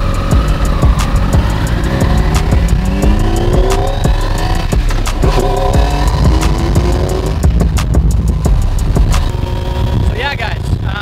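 A T-Rex RR three-wheeler accelerates hard from a stop, its engine climbing through rising revs and gear changes, loud and close with brief voices over it.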